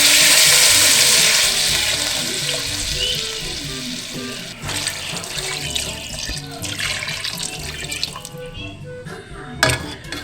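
Broth splashes into a pot of sinigang na bangus with sinigang mix, a bright rushing pour that begins loud and hissing, then tapers into uneven sloshing and a few drips.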